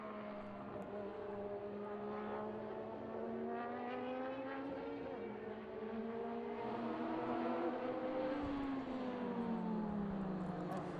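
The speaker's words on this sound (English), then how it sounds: "So Mika already accelerating the pace here" A McLaren Formula One race car accelerating at the 2022 Velocity Invitational: a continuous, strong engine note that climbs and dips in pitch through the gears, steady and unbroken with no talk.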